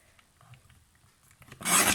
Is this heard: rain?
no